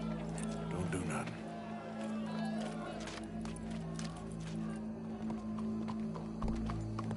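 Horse hooves clip-clop at a steady walking pace in Red Dead Redemption 2, carried under a constant low drone with a horse whinny and someone talking over them.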